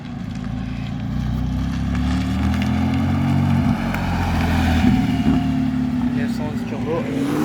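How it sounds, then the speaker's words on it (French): A Honda race car arrives at the Nogaro circuit during a club day, a continuous engine drone that swells as the car approaches, while someone speaks over it. "cette Honda et qui arrive à présent"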